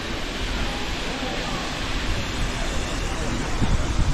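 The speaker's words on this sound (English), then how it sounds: "here's the waterfall." Waterfall on South Africa's Panorama Route, a broad continuous roar of rushing water with steady rumble, close and loud throughout.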